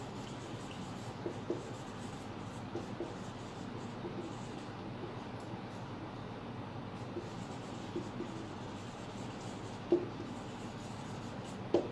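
A pen scratches steadily across paper as a sentence is written out by hand, a continuous close rasp with small taps at the starts and ends of strokes.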